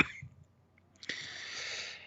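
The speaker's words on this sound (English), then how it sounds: "I don't know why my cough has returned." A recurring seasonal cough bursts out sharply and close at the start, then a longer, rougher breathy hack follows about a second later, with no speech around it.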